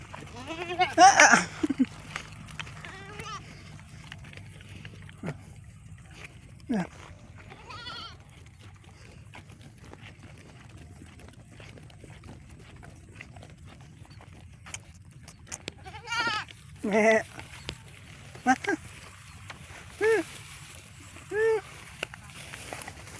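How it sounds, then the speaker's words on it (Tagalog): Pet goats bleat repeatedly outdoors while being grazed, their wavering calls coming in scattered bursts, some close and loud, others fainter, with occasional rustling and footsteps between them. "Pastal kami ng kambing."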